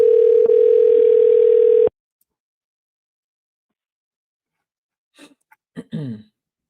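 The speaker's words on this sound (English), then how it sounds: "let's give these people a call and see if they pick up the phone" A steady telephone dial tone sounds loud and alone for about two seconds while a call is placed, then silence before faint rustles and a brief breath or throat noise.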